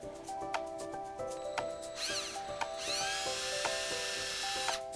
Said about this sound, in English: So when I go and drill in,